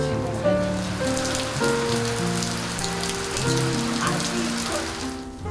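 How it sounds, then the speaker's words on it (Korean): A steady rain shower patters densely on surfaces nearby, a continuous wash of drops with no voices. "오랜만에 내리는 단비를 바라보며 더위를 식힙니다"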